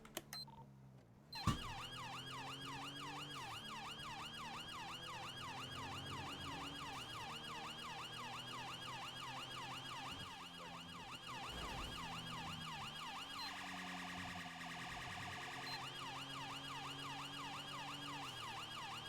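A police car siren in GTA V, a loud, close wail sweeping up and down continuously in a steady cycle, then switching to a faster, harsher yelp pattern near the end, over a low engine hum.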